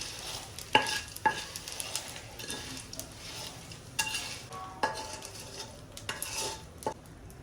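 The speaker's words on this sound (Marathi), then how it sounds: "अशाच पद्धतीने उरलेले सुद्धा आता आपण आपले डिंक फुलवून घेऊ" Edible gum (dink) puffing as it fries in hot oil in a pan, a steady crackling sizzle with scraping stirs and several sharp clinks of a utensil against the metal pan, no talking.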